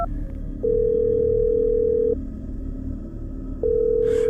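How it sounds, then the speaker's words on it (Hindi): A telephone ringback tone for an unanswered call sounds twice in long, steady electronic pulses with a pause between, over a low background hum. "फ़ोन की घंटी बजी, लेकिन कोई जवाब नहीं मिला"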